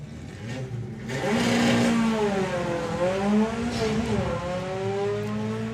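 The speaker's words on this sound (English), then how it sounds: "you hear them go really high in the two-step and then take all the power out to keep the front end down" A drag racing car at a national finals meet revs hard on the two-step, a loud sustained engine howl that rises and dips in pitch with brief, surging wavers.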